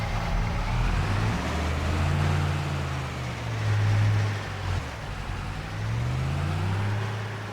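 A truck engine in Farming Simulator 25 turns over roughly, then settles into a low, uneven rumble that swells and dips as it revs. The engine stays close and continuous throughout, with no talking.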